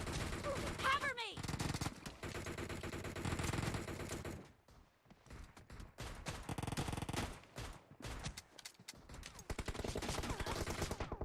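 Gunfire in a battle royale video game comes as dense bursts of rapid shots with short pauses between volleys, fairly close. Players can be heard calling out over the shooting.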